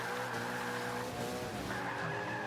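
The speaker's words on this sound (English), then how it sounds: "wheel spin" Race car in Forza Motorsport 5 spinning its wheels, a continuous loud tire squeal over a revving engine drone lasting a couple of seconds.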